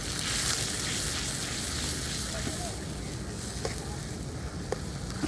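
Ground coriander, chili, turmeric and salt masala frying in hot oil, with a steady, dense sizzle that runs throughout and a few faint stirring scrapes.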